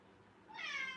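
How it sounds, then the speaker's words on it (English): A house cat lets out a single faint meow that rises in pitch near the end, heard alone in a quiet indoor kitchen with no talk. "That's the cat."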